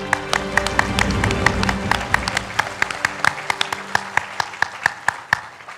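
A party congress audience of the Democratic Progressive Party breaks into dense, loud applause that thins over several seconds into sparser, sharper individual claps with crowd noise beneath.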